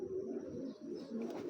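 Soft, low pigeon cooing from a pair of domestic military-breed pigeons, a few drawn-out murmuring coos heard faintly and close by with no talk.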